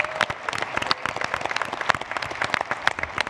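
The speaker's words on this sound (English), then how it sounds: "So can we give her a round of applause" Audience at a waste industry conference giving a round of applause, a lively patter of individual claps close and distinct, with a few faint voices underneath.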